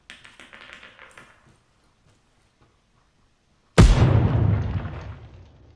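Frag grenade detonating in the tactical shooter Ground Branch, a sudden loud close blast that rumbles and decays over about two seconds, after a stretch of near silence and faint clicking earlier on.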